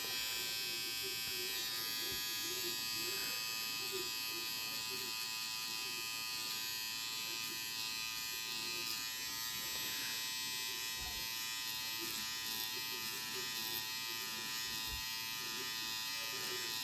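Peak Solace Mini wireless tattoo machine running with a steady, continuous high electric buzz throughout, a voice speaking faintly underneath.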